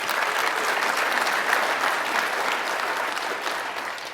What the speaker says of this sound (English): let's give him a round of applause for his help for us on all this